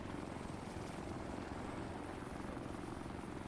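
A helicopter in a military video game gives a steady, close, loud rotor-and-engine roar with a constant thudding texture and no breaks.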